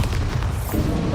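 Bombarda spell explosion in Hogwarts Legacy, a deep booming blast that rumbles steadily through the whole short moment, loud and close with no talking.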